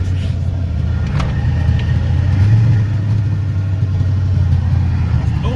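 The junkyard Ford Mustang Fox body engine runs roughly on about half its cylinders, a loud, close, steady low rumble that swells slightly midway, with no speech over it.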